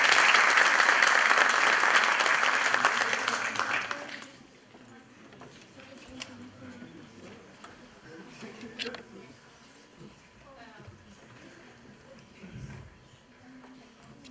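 An audience gives a loud burst of sustained clapping to welcome a university dean to the stage at a rector–student meeting. The applause fades after a few seconds into quiet room murmur.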